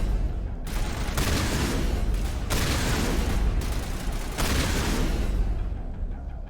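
Shotgun fire in the video game Mass Effect 1, several heavy blasts in quick bursts with brief gaps between them, loud and close with no talking.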